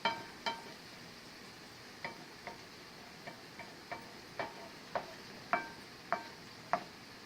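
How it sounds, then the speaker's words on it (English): Vegetables softening in a cooking pan for a dressing give a faint, quiet sizzle broken by sporadic light ticks and pops at irregular intervals, with no talking. "So I'm just letting my vegetables soften up."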